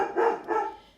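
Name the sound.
dog barking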